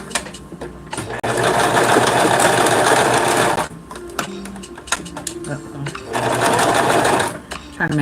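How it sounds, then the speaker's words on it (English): Sewing machine stitching all the way around a piece of fabric, a loud, close, continuous whirring that runs in two long bursts with a brief pause between them. "So now I'm just gonna sew all the way around it"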